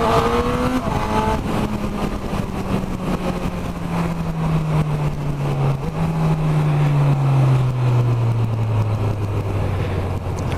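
Honda CB1000R motorcycle engine while riding, a steady drone whose pitch slowly falls across the run as the bike decelerates, with wind rush throughout and no voices.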